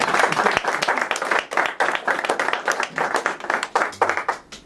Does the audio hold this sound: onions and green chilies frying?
no